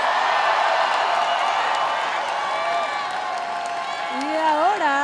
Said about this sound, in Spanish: Que se escuche el aplauso para Aries.